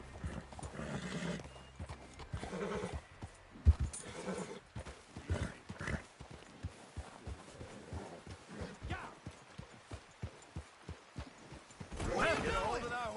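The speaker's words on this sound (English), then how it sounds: "Get a hold of that horse, Arthur." Horse hooves clip-clop and a horse whinnies in the Red Dead video game, the steady footfalls running under ongoing character dialogue and ending in a louder burst near the close.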